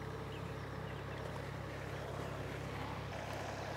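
A tractor engine drones steadily at a distance while hauling free pine firewood, a constant low rumble with wind noise over it and no clear change in loudness.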